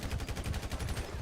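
Rapid evenly spaced gunshots in GTA V with the LSPDFR police mod, roughly a dozen quick cracks in steady succession, moderately loud with no talking.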